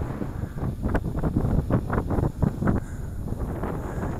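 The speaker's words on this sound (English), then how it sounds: "Today I have quite a bit of breeze, quite a bit of wind." Gusty wind buffets the microphone in uneven low rumbling bursts, loud and close, with no voices.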